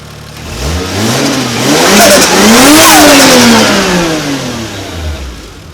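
A Toyota 1JZ engine swapped into a Nissan 240SX with a freshly installed Walbro 255 fuel pump runs loud and close, rising through one long smooth rev that peaks and falls back toward idle, with no voices.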